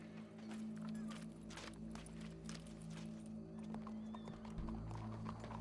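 In the video game Red Dead Redemption 2, a horse's hooves trot with faint, rhythmic clip-clops beneath a steady low ambient drone.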